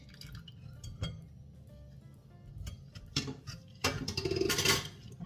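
Milk poured from a glass into muffin batter in a home kitchen, a close, soft trickling and dripping that swells into a brief steady splash near the end.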